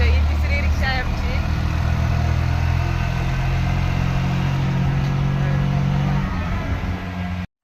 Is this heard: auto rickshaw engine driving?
yes